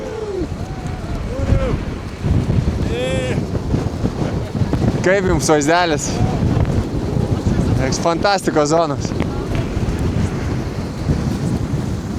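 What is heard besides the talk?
strong wind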